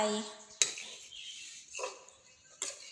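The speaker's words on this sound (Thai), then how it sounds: "เตามหาเศรษฐีเราก็คั่วไปคั่วไป" Pan roasting on a Mahasetthi stove, with a few sharp metallic scrapes and clanks of stirring at irregular intervals, close, under a faint voice.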